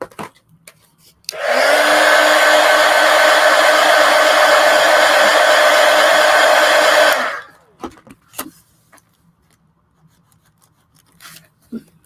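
A hair dryer blows on paint on a paper collage, a loud, steady whirring hum running about six seconds close up, then switching off, followed by light handling noises.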